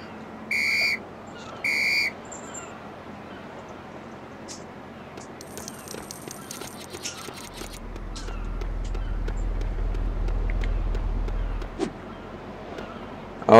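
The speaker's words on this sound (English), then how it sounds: "You can blow your whistle and show your badge" Two short, shrill police whistle blasts ring out alone near the start of LEGO City Undercover gameplay, followed by soft game sounds and a low rumble.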